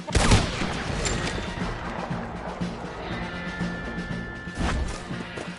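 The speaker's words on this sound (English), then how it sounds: "Try to flank them, Arthur. We'll shoot you some space." Gunfight in Red Dead Redemption 2, with scattered gunshots and crashing impacts over a continuous rumbling battle, one sharp nearby shot at the start and another burst near the end.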